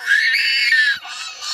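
A young girl lets out a long, piercing, high-pitched scream, loud and close, breaking off briefly before a second shrill cry starts.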